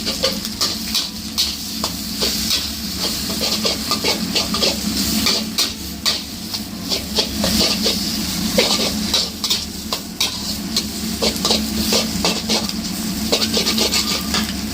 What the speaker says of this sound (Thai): หลังจากนั้นใส่เส้นที่เราปรุงรสเรียบร้อยแล้วลงไปเลย ผัดเลยครับเพื่อน ๆ